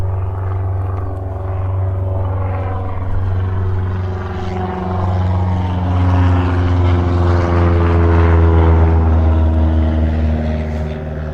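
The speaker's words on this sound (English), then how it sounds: "we're gonna sit here and listen to planes all day" Propeller airplanes drone overhead at an orange grove park in Mesa, Arizona, a loud, steady engine hum that swells and fades slightly as they pass, with no talk.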